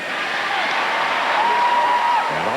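A sold-out stadium crowd roars and cheers inside the Seattle Kingdome during a football game, a dense, sustained wash of noise with a rising shout near the middle.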